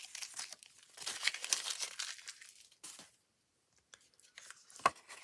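Backing sheet peeled off a heated foil card panel, a close crinkling, tearing rustle that runs for about three seconds, pauses, then a few faint crackles and a sharp tick.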